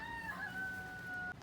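A chicken gives a drawn-out, wavering call close by, heard on its own in a single burst that stops abruptly.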